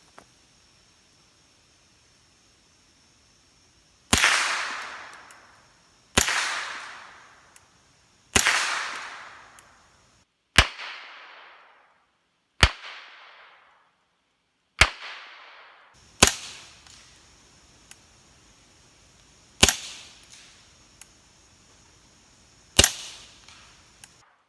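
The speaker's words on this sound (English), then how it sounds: "11 rounds of rimfire that'll ever be run through this suppressor" Eleven rimfire rounds fired one at a time through a SilencerCo Hybrid suppressor, a 46-caliber can, the first three supersonic and the next three subsonic; sharp muffled cracks spaced a couple of seconds apart, each trailing a short outdoor decay.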